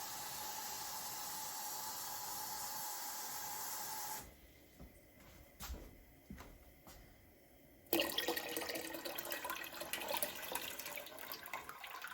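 Water poured into a pot of homemade cranberry juice to top it up to four quarts, a steady rushing pour that stops midway, then resumes louder and closer until the end.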